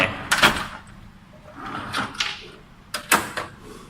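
A cash register money drawer, an SCRS-G14 II, unlocked with a key and opened, producing a few sharp clicks and sliding clunks in three bursts, close and alone without talk.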